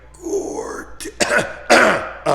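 A man clears his throat several times in short, rough bursts, close and fairly loud.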